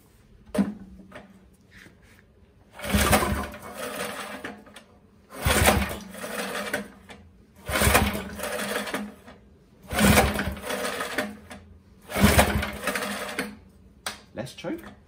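Old lawn comber scarifier engine being cranked to start, five separate bursts of rapid mechanical churning each lasting about a second or two, with quiet gaps and faint clicks between them, close by.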